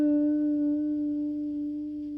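A single sustained electric guitar note held with smooth new-style vibrato and a gentle upward push, ringing steadily and slowly fading, played alone.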